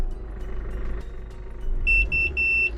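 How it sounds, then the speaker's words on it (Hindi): A Hyundai Accent running on CNG sounds its empty-gas warning beep while accelerating: three or four sharp, bright electronic beeps in quick succession over a steady low engine rumble. "जैसे ही मैं इसको थोड़ा सा और एक्सेलरेट कर रहा हूँ ना, तो ये बीप साउंड दे रही है।"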